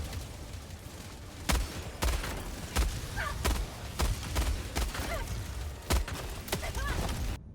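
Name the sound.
heavy machine gun firing in Helldivers 2 video game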